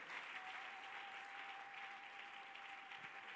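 A congregation at a French-language church service applauds the Lord in steady, sustained clapping that fills the room evenly, with no break and a faint tone running underneath.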